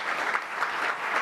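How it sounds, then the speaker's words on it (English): Dense, steady applause from an audience at a conservation summit fills the whole moment, a close, even wash of many hands clapping with no pauses. "I just want to give them one more round of applause"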